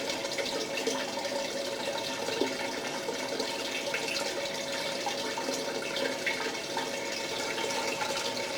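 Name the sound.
water running into a blue bowl gold concentrator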